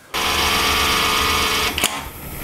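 A DIY direct-to-garment printer powering back on gives a sudden loud, steady whirring drone that holds for over a second, then dips with a brief clatter and continues more quietly.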